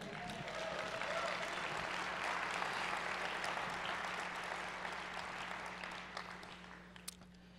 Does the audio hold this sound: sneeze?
no